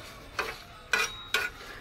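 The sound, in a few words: dry-roasting cumin, panch phoron and dried chillies in a pan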